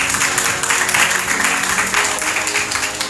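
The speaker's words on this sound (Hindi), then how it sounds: "तो आपकी तालियों की जो गूंज है वो इनके एप्रिसिएशन के लिए इतनी होनी चाहिए।" Sustained applause from an audience at a Rotaract Club installation ceremony, a dense, even roar of many hands clapping in a hall, loud and continuous throughout.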